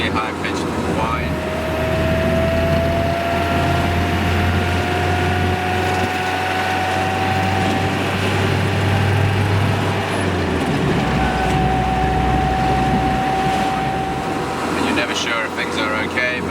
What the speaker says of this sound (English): even now while we're running along on the highway, it's got this really high-pitched whine